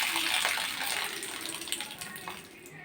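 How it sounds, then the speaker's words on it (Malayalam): Clean water splashes and gushes as green chillies and coriander are rinsed by hand, a busy wet churning that is strongest at first and eases into softer sloshes and drips; a voice talks over it. "നല്ല തെളിഞ്ഞ വെള്ളം കഴുകിയെടുക്കുന്നത് മൊത്തം"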